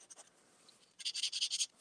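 Fine fountain pen nib scratching across paper, a few soft strokes followed by a quick burst of brisk, rhythmic scribbling, close and quiet.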